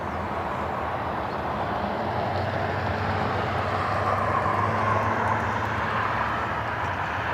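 Aer Lingus airliner on final approach to runway 24 right at Cleveland Hopkins, a steady broad engine roar lasting throughout, moderately loud, with a faint rising whine in the middle.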